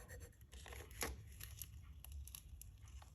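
Transfer tape peeled off a glass can, a quiet run of tearing and crinkling at close range, with one sharper rip near the start.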